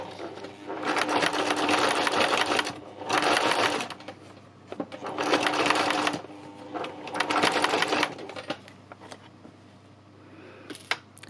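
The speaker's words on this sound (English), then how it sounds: "I'm just doing a simple straight stitch down here." Sewing machine running a simple straight stitch in bursts of a few seconds each, with short pauses between runs, close and steady, no talking.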